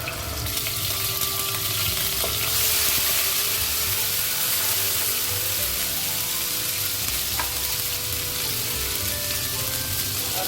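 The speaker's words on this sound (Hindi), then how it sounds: "अब हम इसमें डालेंगे लहसुन का पेस्ट।" Garlic paste sizzling in hot oil over a high flame, with chicken cooking alongside for restaurant-style fried rice, a loud, constant crackling hiss that swells slightly after a few seconds and keeps frying steadily, with no talking.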